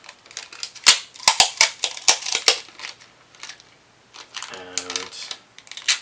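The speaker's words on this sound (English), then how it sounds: "I'm going to take a little bit of packing tape here" Packing tape torn and pulled off its roll in short crackling bursts, close and fairly loud, ending in a brief squealing peel; used to insulate a battery protection board.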